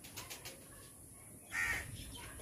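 Pigeons kept by a bird seller call from a loft, with a short louder coo or call burst rising near the end over a soft, steady background.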